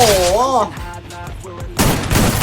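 Starting gun fired in Free Fire, bursts of close gunfire breaking in around excited shouting and game effects, with a loud cluster of shots at the end.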